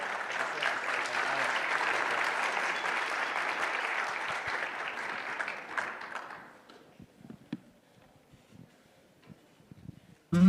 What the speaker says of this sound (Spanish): un aplauso aquí para mi estimado Diego